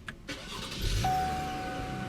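A 2017 Cadillac CT6's 3.6-liter V6 engine cranks and catches, then settles into a steady idle hum with a faint high whine, close by and alone.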